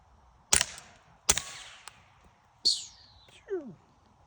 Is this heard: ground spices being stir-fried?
no